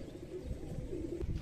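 Pigeons coo softly at close range where grain has been scattered for them, a low, rolling warble repeating over a brief, quiet stretch.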